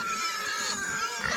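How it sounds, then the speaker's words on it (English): Duroc Tamworth and Duroc saddleback sows give a brief, close squealing grunt lasting about a second, with no talking. "Okay, so these are my sows."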